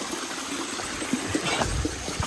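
Water trickling in a mountain stream, a steady soft broadband wash with small splashy accents throughout, moderately close, with no speech over it.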